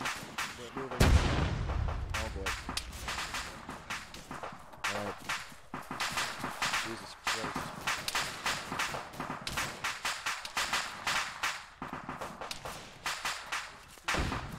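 Gunfire in the Vietnam War setting of ArmA 3 (MACV-SOG): a loud, close blast opens a long run of rapid, sharp shots that crack in quick bursts throughout, with a few heavier thuds.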